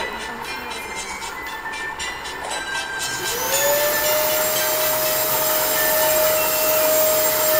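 A train in the Roblox video game runs steadily, with a hissing rumble at first and then a long, sustained whistle-like tone that holds loud to the end, with no talking.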